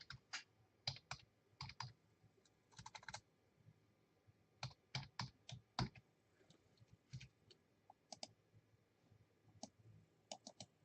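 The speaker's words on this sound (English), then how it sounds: "All right, I can start typing the names in." Names being typed on a computer keyboard, with bursts of crisp key clicks in irregular runs and pauses between them. The typing is close and fairly quiet in an otherwise still room.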